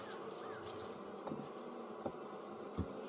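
Bees buzz around a hive with freshly drawn comb, making a steady insect drone with a high whine over a soft low background and a few faint knocks.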